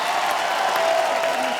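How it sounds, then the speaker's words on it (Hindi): A television comedy show studio audience applauds for actress Nora Fatehi, a short, steady wash of clapping at even loudness throughout. "नोरा के लिए जोरदार तालियां"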